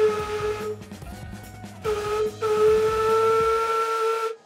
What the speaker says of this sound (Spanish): Ahora sí un toque de silbato.